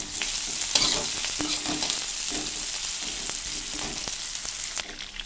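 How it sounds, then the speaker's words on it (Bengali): Onion, garlic and ginger fry in a pan with a steady, close sizzle, while a utensil stirs and scrapes in a loose rhythm throughout. "আমি পেঁয়াজ ছেড়ে দিয়েছি এবার না একটু পেঁয়াজ লাল লাল হয়ে যেয়ে সেই আমি রসুন আর আদা আবার ছেড়ে দিলাম"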